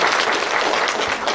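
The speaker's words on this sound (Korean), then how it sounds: "다시 한번 큰 박수 부탁드리겠습니다." Loud, steady applause from an audience at a Korean public hearing on a new education centre for people with developmental disabilities, a dense wash of clapping filling the whole moment with no voices on top.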